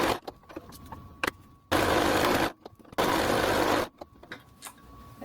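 Sewing machine stitching fabric inside out, running in two sustained bursts of about a second each, separated by pauses filled with small handling clicks and taps; no voices.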